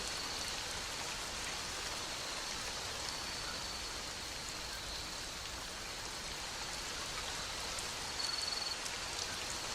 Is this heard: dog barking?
no